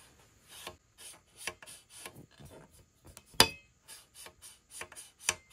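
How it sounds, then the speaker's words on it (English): Trumpet valve slides are pulled in and out close up, giving repeated short gritty scraping rubs like sandpaper, with a few sharper clicks among the strokes. "especially that first valve slide. It sounds like there's sandpaper in there."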